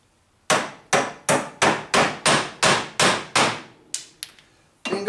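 An axe is used as a hammer, its back striking a plastic cordage maker in about ten sharp, evenly spaced metallic blows, loud and close, with a few lighter taps at the end.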